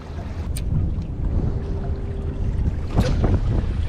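Wind buffets the microphone on a sandy Long Beach shore during halibut fishing, a constant low roar with faint surf beneath it and a few brief clicks and rattles of fishing gear; no voice.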